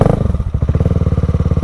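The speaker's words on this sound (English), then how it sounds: "Tap it on the side there, and the bike comes to life." A 2022 CCM Spitfire Six Stealth motorcycle engine firing up close by, settling at once into a loud, throbbing single-cylinder idle with a rapid, even pulse.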